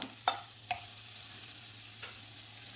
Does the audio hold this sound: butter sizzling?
yes